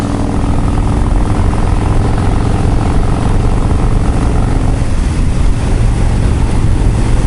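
A belt-driven, 6-speed, 103-cubic-inch (1584 cc) motorcycle engine on a test ride with aftermarket front shocks and Öhlins rear shocks, a loud continuous rumble mixed with heavy wind roar, steady throughout.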